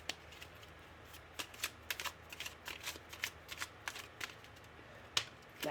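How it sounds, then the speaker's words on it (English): Tarot cards being fanned and picked from a deck, a run of soft close papery flicks and snaps in irregular bursts, quiet with no talk. "I'm gonna pick a card."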